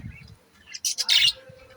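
Pet birds on a balcony chirping, a short burst of bright high tweets close by, preceded by a faint low murmur.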